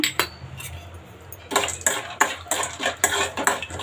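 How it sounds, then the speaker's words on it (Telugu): Peanuts being roasted in a little oil in a pan: a quiet start, then a rapid run of metallic scrapes and clinks as a spoon moves the nuts around the pan, close and without voices. "ఇప్పుడు ప్యాన్ పెట్టేసుకుని కొంచెం ఆయిల్ వేసుకున్నాను ఫస్ట్ నేను ఇప్పుడు పల్లీలు వేపుకుందాము"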